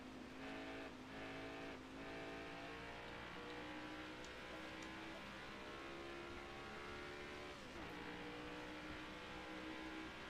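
A race car engine drones and wails steadily while drifting through corners at Gateway in the NASCAR Heat 5 video game, with pitch dipping and rising under continuous high-revving tone and occasional tire scrub.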